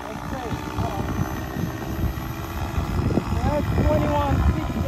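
XLpower Protos 700E electric RC helicopter flying, a steady rotor whir and motor whine rising and falling with maneuvers, with people talking over it.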